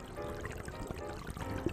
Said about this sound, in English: And finally, the static flowing water noise.